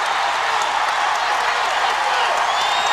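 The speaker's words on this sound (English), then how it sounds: "And this Freedom Hall crowd appreciative of getting a call for the Cavs." A Freedom Hall basketball crowd roaring and clapping in approval of a call for the Cavs, a dense sustained cheer filling the arena.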